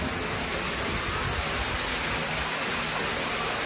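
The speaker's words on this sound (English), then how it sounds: "Oh wow, I see a waterfall, kind of." Dense, steady rushing of water falling inside a wet limestone cave in Japan, a broad unbroken hiss heard from a moderate distance with no voices over it.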